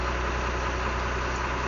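A restored Army M35A3 truck engine idles close by with a steady, even low rumble and vibration that holds constant throughout, with no voices.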